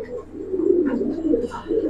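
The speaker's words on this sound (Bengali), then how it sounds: "দুইটা কবুতর দেখেন মাশাআল্লাহ" Giribaz pigeons coo in low, rolling murmurs that swell and fade across the moment, close to the mic with faint higher chirps above.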